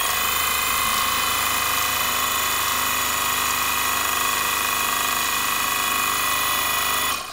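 An unbalanced holographic Christmas ornament spinning on a small motor, a steady, loud whirring drone with a shrill high whine that continues evenly until it suddenly cuts off.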